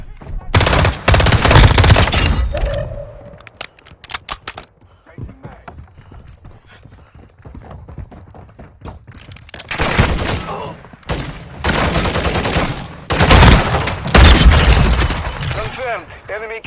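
Bursts of automatic gunfire ring out in the mobile shooter Warzone Mobile, loud volleys at the start and again toward the end, with quieter scattered shots in between while in-game voices call out.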